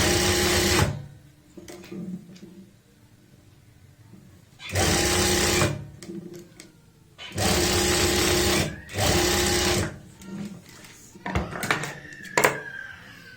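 A sewing machine stitches a kameez seam in several loud, sustained bursts separated by pauses with light handling clicks and rustles, the motor whirring close by.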